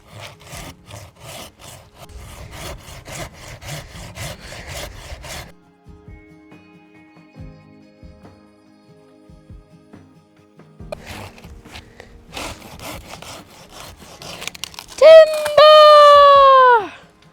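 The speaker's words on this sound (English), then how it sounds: "So I'm gonna take my good old saw" A hand saw rasps back and forth through a dead tree being cut for fireboard wood, rhythmic strokes near and clear for several seconds, then quieter scraping, ending in a loud creaking groan as the trunk gives way.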